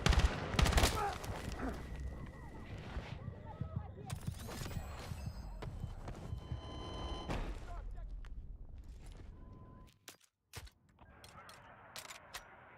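Gunfire in the video game Battlefield 6, bursts of rapid shots and explosions early on with quieter game ambience and a brief drop to near silence later.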